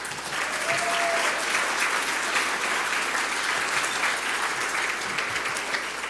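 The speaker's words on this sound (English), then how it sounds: "Can we give our agencies a round of applause?" Sustained audience applause at a community summit on human trafficking prevention in Southern Oregon, a dense steady wash of clapping from a large room that holds level for the whole stretch.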